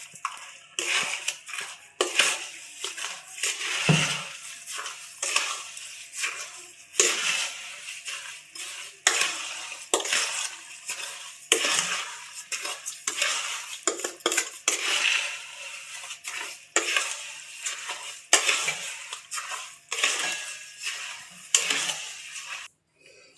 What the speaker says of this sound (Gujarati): એ બધું મિક્સ કરી દઈશું. સરસ રીતે બધું હલાવી લેશું.